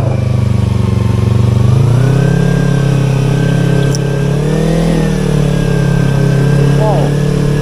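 A motorcycle engine revs loud and close on a mountain road between Soreang and Ciwidey in West Java, Indonesia, rising in pitch then settling into a rough, steady roar, with people talking underneath.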